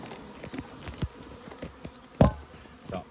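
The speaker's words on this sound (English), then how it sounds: "I better cut that next piece off. It'll expose more bees." Honeybees buzzing close by while comb is cut away from a roof during a rescue, a steady insect hum broken by scattered knocks and one sharp clatter midway.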